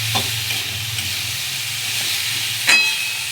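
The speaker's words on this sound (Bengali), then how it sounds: "বেগুন আর পেঁয়াজকলিটাকে খুব ভালো করে ভেজে নেব।" Chopped brinjal and spring onion fry in a pan with a steady, close sizzle, broken by a few clinks and scrapes of stirring.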